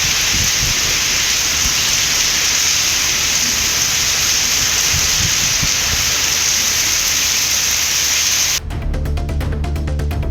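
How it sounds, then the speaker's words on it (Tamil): Heavy rain pours down suddenly during a summer storm with dark clouds and strong wind in Avinashi, Tiruppur district, Tamil Nadu, a loud dense steady hiss that runs without a break, with a brief shift in texture near the end. "திடீரென கருமேகங்கள் சூழ்ந்து பலத்த மழை பெய்தது"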